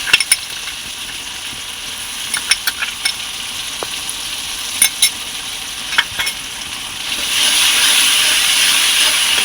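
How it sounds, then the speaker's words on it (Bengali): Ginger-garlic paste masala frying in a pan: scattered ticks and spatters crackle early on, then the sizzle swells into a steady, fairly loud hiss toward the end. "ভালো করে মশলাটা আমি ভেজে নেব"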